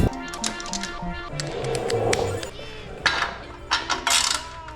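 A hand ratchet works bolts loose on the exhaust of an Aprilia Tuono V4 motorcycle, making close, crisp clicking runs. Metallic clanks follow as the parts shift.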